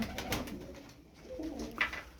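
Pigeons coo softly in low, rolling murmurs, faint and nearby, with a muffled flutter of movement and no voices.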